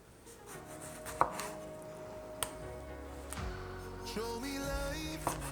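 A knife chopping avocado on a cutting board for shrimp ceviche, a few distinct close taps and thuds spaced across a few seconds over a quiet kitchen background.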